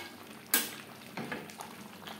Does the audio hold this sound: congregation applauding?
no